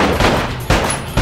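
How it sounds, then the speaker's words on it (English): Gunfire in the Bad Boys 2 video game: three loud, close shots in quick succession, each a sharp crack with a short tail. "gotta shoot everything you see?"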